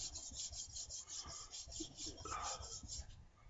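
A woodworking chisel's back is rubbed on a coarse carborundum sharpening stone of about 100 to 150 grit, giving a close, rhythmic scraping rasp of quick back-and-forth strokes.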